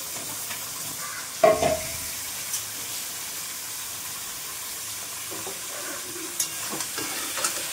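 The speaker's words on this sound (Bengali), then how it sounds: "এবার এটাকে চিকেনটাকে ভালো করে কষিয়ে নেব।" Chicken pieces fry in spice masala that has released its oil in a pan. A soft, low sizzle runs throughout with occasional clinks from stirring, faint and close, with no voices.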